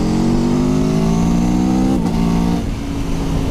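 A 2021 Aprilia Tuono V4 engine revs hard and steady to 4,000 rpm, its pitch climbing then dipping briefly before holding a loud, sustained roar close by.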